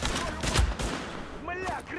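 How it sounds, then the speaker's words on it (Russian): A grenade explosion in the Tom Clancy's The Division video game on PS4, a heavy low boom mixed with rattling gunfire and a rumbling tail, with game voices and sweeping effects behind it. "Мля, граната!"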